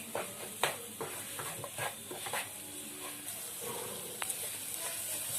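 Spiced green peas sizzle softly in a pan under a low, steady hiss while a spoon scrapes and stirs at intervals, close by but fairly quiet.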